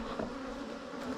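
Honeybees buzz steadily around a hive being split by a beekeeper in a full bee suit, with smoke used to calm them; a dense, continuous drone close by, with no talk.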